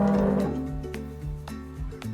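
A black-and-white mother cow on a farm gives a single low, droning moo at the start that fades out, leaving a soft rhythmic background.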